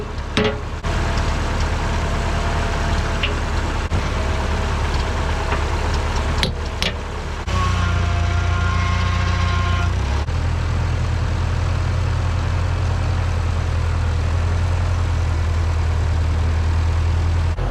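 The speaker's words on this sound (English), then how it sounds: "let's put the bucket on the loader tractor with the forks" A heavy diesel loader tractor engine idles loudly and steadily, then revs up briefly with a deeper rumble before settling into a strong, constant drone.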